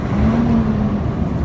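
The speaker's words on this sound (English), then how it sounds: "we actually give it a rev" A Sinotruk truck's diesel engine revs up steadily while held in neutral between gear changes, a close, sustained drone with a brief louder swell at the end.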